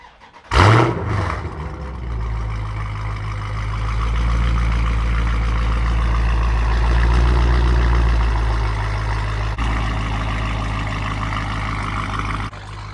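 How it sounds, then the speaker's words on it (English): The 392 engine of a Dodge Challenger Scat Pack fires up on remote start with a sharp bark, then settles into a loud, deep, rumbling idle that swells slightly and holds steady close by. "Y'all know we gotta give y'all a remote start."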